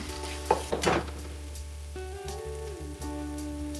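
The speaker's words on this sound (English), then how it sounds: "So just stir it for about 1 to 2 minutes with the oil." Tomato paste sizzles in oil as it is stirred, a few clattering scrapes of a utensil against the pot early on over a low steady hiss and hum.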